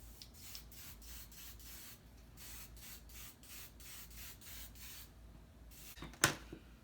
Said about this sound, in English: and then we'll spray